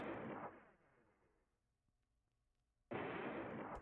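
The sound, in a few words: explosion sound effect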